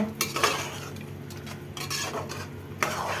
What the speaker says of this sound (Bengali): এবার এইটা দিয়ে ভালো করে নাড়িয়ে নাড়িয়ে শুকিয়ে নেব